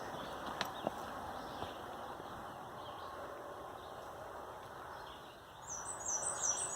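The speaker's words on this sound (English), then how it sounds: "can hear the birds" Birds chirp faintly in the distance on a mountain trail near McAfee Knob on the Appalachian Trail on a quiet morning, with a brighter burst of tweets near the end.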